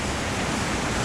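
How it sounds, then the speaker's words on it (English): A waterfall on Vancouver Island roars as a dense, even rush of falling water, steady and loud throughout the brief moment. "Waterfall's down there"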